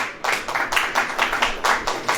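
A church congregation claps in a quick, steady rhythm of about eight or nine sharp claps, close and fairly loud, with no talk over it.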